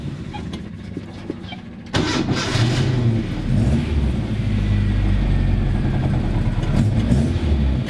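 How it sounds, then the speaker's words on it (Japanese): A Nissan Sunny truck with an A-series engine cranks and fires up abruptly, then settles into a steady, fairly loud idle with a low rumbling tone, heard up close with no talking. "ちょっとエンジンを聞いてみましょう。"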